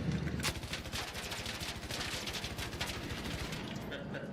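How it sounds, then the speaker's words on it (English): Rapid automatic gunfire in the video game Arc Raiders, sustained bursts of fast shots running steadily under a faint voice, moderately loud and continuous throughout. "I'm gonna shoot bullets at it."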